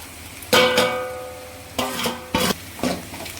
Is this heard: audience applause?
no